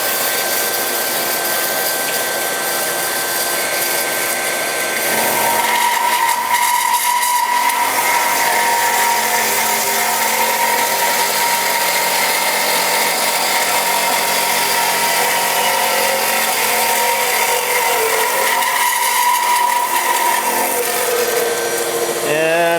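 A Marvel 2150 tilt frame automatic bandsaw runs steadily for the whole stretch, a loud continuous mechanical whine and hum whose tone shifts around the five-second mark and again near the end, heard close with no talking.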